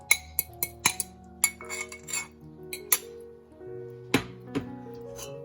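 Metal utensils clinking against a bowl while beaten egg yolks and cream are mixed into cooled spinach for a spinach soufflé: a series of sharp, close taps and ringing clinks at an irregular rhythm, with no talking.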